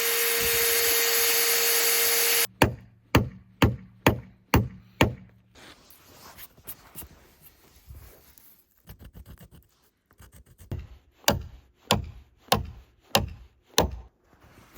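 Spikes are hammered into a log wall on an off-grid cabin build, a series of sharp, evenly spaced metallic blows in two runs separated by a quieter pause, close and loud, after a brief steady whine at the start.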